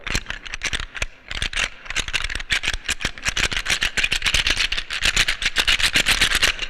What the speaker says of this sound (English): The rattling sound of it, it's amazing.